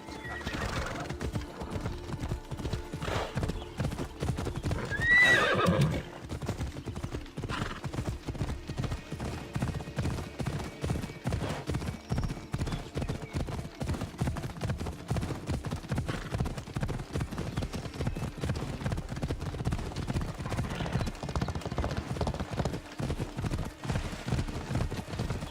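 Galloping horse hooves in Assassin's Creed Odyssey, a steady rapid clip-clop rhythm running throughout with a brief whinny near the start, close and moderately loud.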